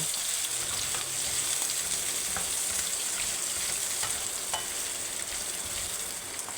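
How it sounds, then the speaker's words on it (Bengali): Thin beef slices fry in oil in a wok with a dense, even hiss that runs throughout, dotted with faint pops and light clinks; no one speaks. "কিছু পরিমাণ তেল দিয়ে কড়াইয়ের মধ্যে ভেজে নেব"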